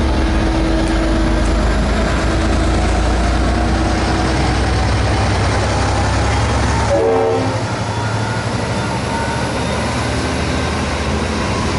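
Train passing at a grain loop in Geelong, a loud, steady low rumble and wagon roar filling the whole stretch, with a brief horn-like tone near the middle before the noise eases slightly.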